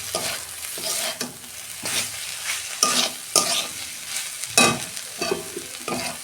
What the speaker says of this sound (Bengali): সেই জন্য আমি ঘি দিচ্ছি অল্প।